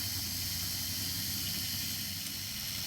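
Hornby Mallard R879 model locomotive motor running steadily on the track, a continuous close mechanical whir and hum with a bright high-pitched hiss, even in level throughout without any talking.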